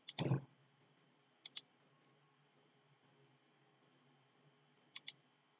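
Computer mouse clicks while setting up a microcontroller project on a PC: a louder handling noise at the start, then two quick double clicks spaced a few seconds apart, close and crisp over faint room hiss.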